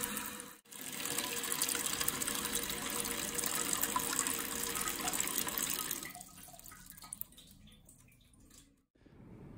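Water rushes steadily into a toilet cistern through a float valve with a hissing flow, then quiets and tapers off as the filling slows near the end.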